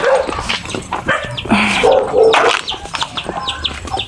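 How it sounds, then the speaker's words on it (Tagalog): Several dogs at a Filipino yard bark in short, scattered bursts, fairly close, with chickens clucking and rural background noise around them. "Daming aso."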